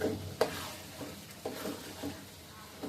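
Taro pieces frying in hot oil in a home kitchen pan, a close, fairly quiet sizzle broken by a few spatula scrapes and clinks over a few seconds.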